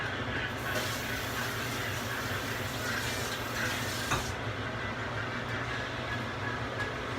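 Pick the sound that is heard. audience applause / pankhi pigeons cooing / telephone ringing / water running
water running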